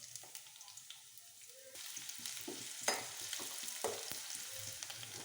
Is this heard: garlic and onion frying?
yes